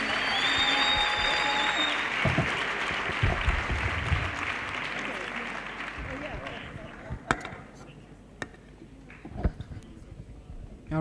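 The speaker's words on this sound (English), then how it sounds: "Can we give all our speakers a round of applause?" Youth-week audience applauds its speakers, a steady wash of clapping and crowd noise that tapers off after several seconds, with voices and a few sharp knocks as it dies down.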